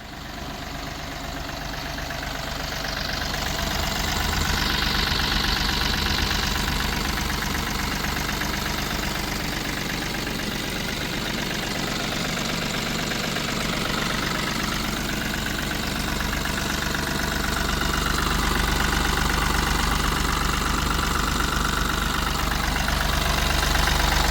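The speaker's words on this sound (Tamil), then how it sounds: "வண்டியோட இன்ஜினை ஸ்டார்ட் பண்ணி இன்ஜினோட சவுண்டை இந்த வீடியோவோட அட்டாச் பண்ணி காட்ட போகிறோம்" A Mahindra TUV300 T8 mHAWK diesel engine idles with a steady, close, low rumble and faint knock that holds unbroken throughout, with no talking.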